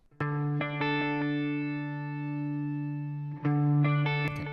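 A strummed 12-string-style electric guitar rings out with a lush, shimmering chorus effect, sustaining chords with a second strum near the end.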